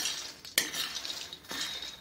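Fox nuts rattle and scrape in a pan as a spoon stirs them, with a couple of sharper clinks and a faint sizzle; no voices.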